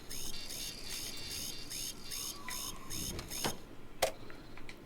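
An alarm blares in the video game Starfield, a repeating electronic tone pulsing in a steady rhythm for a few seconds before cutting off, followed by a couple of sharp clicks.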